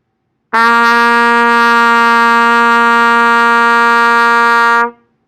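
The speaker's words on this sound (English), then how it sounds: "So that C sounds like this." Open-valve low C on a trumpet, sustained as one long, even, brassy note for over four seconds, played loud and near before stopping cleanly.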